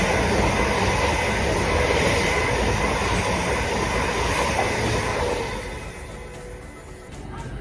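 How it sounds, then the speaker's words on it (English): A Stansted Express train rushes through a station at close range with a loud, steady roar of rolling wheels, then fades somewhat toward the end. "This station also has lots of trains passing through, such as this Stansted Express train."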